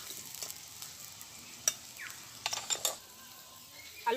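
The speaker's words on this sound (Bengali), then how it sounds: "আলুগুলোকে লাল লাল করে ভেজে নিয়েছি" Potatoes frying in a pan of oil, being browned for a fish-ball dish, with a steady low sizzle and a few sharp clinks and scrapes of a spatula stirring them.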